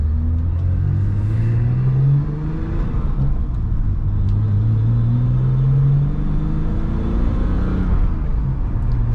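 BMW E12 engine accelerating on its first real drive, a loud steady rumble whose pitch climbs smoothly through two pulls up to around 3,500 rpm, heard from inside the small cabin with no talking.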